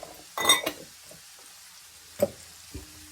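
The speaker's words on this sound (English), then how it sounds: "Give that a stir." Corned beef hash frying in a pan with diced potatoes, stirred with a utensil: a burst of sizzling and scraping, then a few brief clinks and scrapes against the pan.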